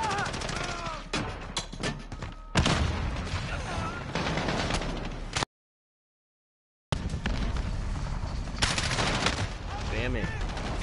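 Dense gunfire in Modern Warfare, rapid bursts and single shots crackling close and loud, broken by a brief total silence before the shooting resumes.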